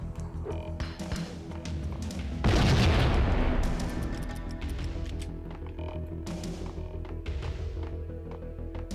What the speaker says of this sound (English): So, we're still chucking grenades.